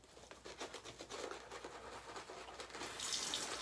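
Water runs from a tap into a sink while shaving soap is lathered, a soft steady hiss and splash with a brief brighter gush near the end.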